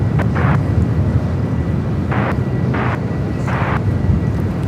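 A United heavy airliner lands on runway 25 left at LAX. A loud, steady low roar of jet engines fills the scene, with wind buffeting and a few short, brighter surges.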